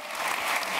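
A short burst of applause from a small group of people, steady and close for under a second, following a stitching moment in a Turkish family setting.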